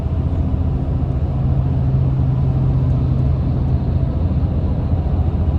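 Cabin drone of a 2025 Toyota Tundra Hybrid TRD Pro pickup with a twin-turbo V6 on the move: a steady low rumble with road and engine hum, constant and fairly loud with no talk.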